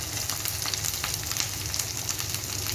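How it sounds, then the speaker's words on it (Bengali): Spices for a fish curry sizzle and fry in a pan, a steady close crackle of hot oil running evenly the whole way through with no voices. "চলো এবার এক এক করে মশলাটা কষাতে থাক"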